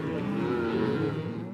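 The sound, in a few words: cattle mooing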